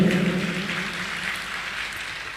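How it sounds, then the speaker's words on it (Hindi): An audience claps to welcome saints and holy men at a Hindu religious gathering, a brief burst of crowd applause that starts full and thins out gradually over a couple of seconds. "सभी लोगों का ताली बजा करके स्वागत करें"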